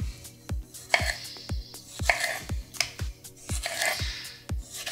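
A Ninja Foodi NeverDull paring knife, about a year old, slices through a tomato onto a board, giving a steady series of about a dozen crisp, evenly spaced taps and cuts, close and clear, without talk.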